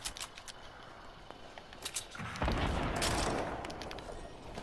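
Gunfire in the video game Fortnite, with scattered shots at first, then a loud, dense burst of rapid firing that carries on to the end.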